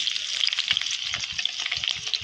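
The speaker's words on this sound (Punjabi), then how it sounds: "ਤੇ ਹੁਣ ਆਪਾਂ ਇਹਦੇ ਵਿੱਚ ਪਾ ਦਾਂਗੇ ਜੀ ਇਕੱਠੀਆਂ ਹਰੀਆਂ ਮਿਰਚਾਂ ਤੇ ਪਿਆਜ਼" Green chillies and onion sizzle and crackle steadily in hot refined oil in a kadai for street-style veg chowmein, a dense close frying hiss with small spoon stirs and no voices.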